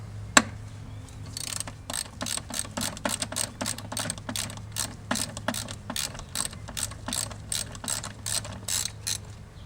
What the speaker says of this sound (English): now we're going to remove these 3 nuts here to get rid of the filter casing